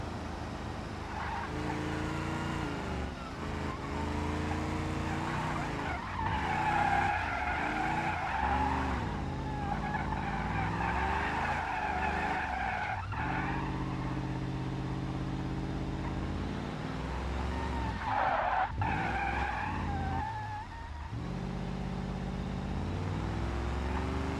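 A car drifting in a racing video game, tires squealing and skidding in long wavering tones over a steady engine drone, loud and sustained with no talk.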